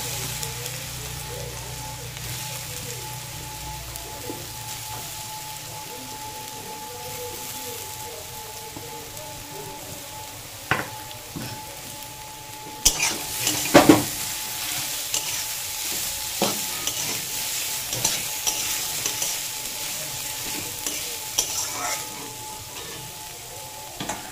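Chopped carrots stir-fry in a pan for fried rice, with a steady sizzle throughout. In the second half, sharper scrapes and clatter from a spatula against the pan break through the sizzle.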